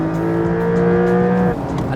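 Porsche 992 911 flat-six engine with PDK gearbox in manual mode revving near redline just above 7,000 RPM, a loud, sustained, close harmonic wail that cuts off abruptly near the end.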